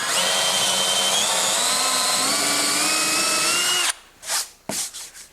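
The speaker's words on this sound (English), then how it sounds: "drill an 1/8 inch hole in it for our pivot pin to go in" A power drill bores an eighth-inch pilot hole in the center of a wooden circle-cutting jig, a steady loud whine for about four seconds before it stops, followed by a few short bumps and handling noises.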